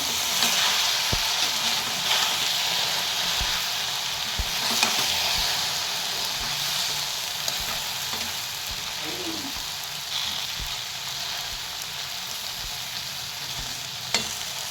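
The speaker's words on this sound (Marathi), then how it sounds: "त्याला म्हणजे चांगलं तळू द्यायचं" Okra fries in oil and salt in a home kitchen, giving a steady, fairly soft sizzle with occasional light knocks from stirring and no talking.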